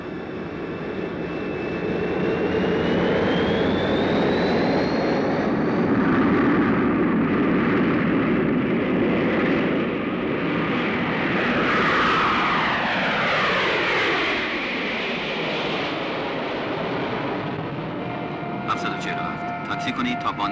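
Boeing 747 jet engines roaring steadily and loudly in preparation for takeoff on a runway, a broad sustained rumble with a rising whine, with voices heard over it.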